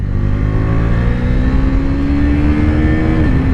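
A 2022 KTM RC 390 motorcycle engine drones steadily on a race track, a close, constant buzzing note that rises slightly in pitch before dipping near the end, with no talking.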